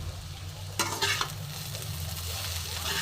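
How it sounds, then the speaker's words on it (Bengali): Chopped vegetables coated in mustard paste with grated coconut fry in a pan, a soft steady sizzle broken by a few quick scraping stirs of a spatula, with low kitchen hum beneath. "আমার সবজিটা, সব সবজিটাই আমার সুন্দর করে ভাজা ভাজা হয়েই এসছে।"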